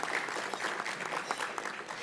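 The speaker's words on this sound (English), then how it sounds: "thank you very much for the applause." At a county luncheon, a seated crowd applauds: brief, dense, even clapping from many hands, steady and moderately distant for about two seconds with no voices over it.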